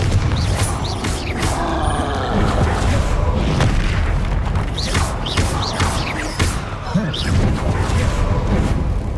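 Confringo spells blast in Hogwarts Legacy combat, a dense, continuous run of loud booms and thuds layered with other spell effects, with a voice calling out over the din.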